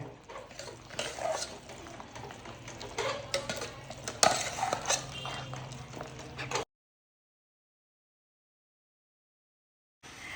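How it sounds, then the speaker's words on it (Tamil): Cooked Mappillai Samba rice being stirred into thick ragi kali in a pot, with scraping, clinking and wet mixing sounds for about six seconds, then abrupt silence before a faint return at the end. "வேக வச்ச மாப்பிள சம்பா அரிசிங்க இந்த களியோட போட்டு நல்லா கலந்துக்கலாங்க"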